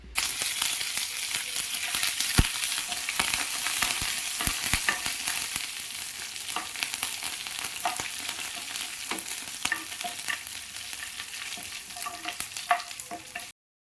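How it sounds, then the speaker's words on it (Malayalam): Curry leaves, dried chillies and mustard seeds sauté in hot oil for Kerala-style mango pickle, giving a steady, close sizzle broken by crackles and pops, with the scrape of stirring running under it throughout. "കുറച്ച് കറിവേപ്പിലയും കൂടി ചേർത്ത് കൊടുത്തിട്ട് നല്ലപോലെ നമുക്ക് വീണ്ടും വഴറ്റിയെടുക്കാം."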